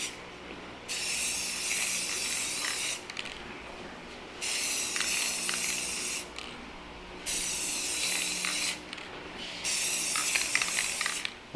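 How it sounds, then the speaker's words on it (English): Spray paint hisses onto a Toyota Tacoma truck part in four even bursts of a couple of seconds each, separated by short pauses, close and steady with no voices. "So, 3 light coats of this, 5 to 6 minutes in between."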